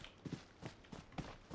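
Footsteps in the video game PUBG Mobile: a run of soft, quick thuds in an even rhythm, faint and close, with no voice over them.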